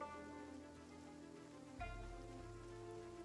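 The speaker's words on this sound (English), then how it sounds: "I feel like it's been raining for like 2 or 3 days straight." Steady rain falls in the survival video game Project Zomboid, a soft, continuous patter heard faintly and alone beneath sustained tonal game ambience that shifts partway through.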